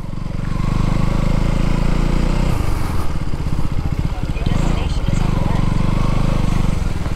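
A motorcycle carrying two riders near Gandipet, Hyderabad, its engine chugging and droning steadily close by with a rough pulsing throb, while people talk over the ride.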